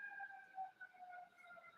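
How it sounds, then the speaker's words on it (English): Ambulance siren wailing at a distance, a faint steady tone that rises and falls slightly across a couple of seconds, with no voices over it. "Definitely an ambulance."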